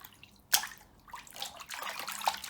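Footstep splashes recorded in water for the video game LIMBO: a sharp splash followed by a few softer sloshing steps and drips, close and isolated.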